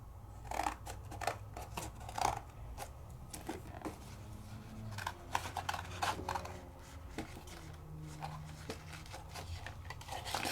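Scissors snip a small piece of crafting paper to size for tiny Sizzix dies, producing a string of quick, close, crisp cuts and light paper rustling in an otherwise quiet room.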